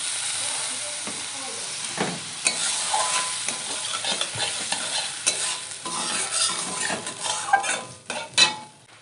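Chili powder and a splash of water are sautéed for a thin tangra fish curry with potato and eggplant, giving a loud, steady sizzle and hiss with repeated spatula scrapes and clinks against the pan.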